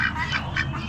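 Muscovy ducks at an Amish animal auction give a short run of nasal quacks, about three close, repeated calls over a low background murmur.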